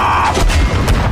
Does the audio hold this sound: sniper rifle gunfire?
yes